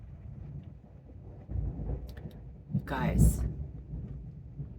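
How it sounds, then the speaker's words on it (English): Low thunder rumbles through a storm outside, swelling to a louder roll near the end, heard indoors beneath a person speaking. "we're having a storm right now. It is really thundering."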